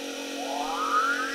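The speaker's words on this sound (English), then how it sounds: "That's the siren." A toy siren on a Ghostbusters Ecto-1 model car gives a short electronic wail that sweeps upward over a steady tone, faint and close, with no talking.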